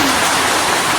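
Steady rain pours down outdoors during a wet day at home, a dense, continuous hiss of drops on surfaces, loud and close with no voices over it.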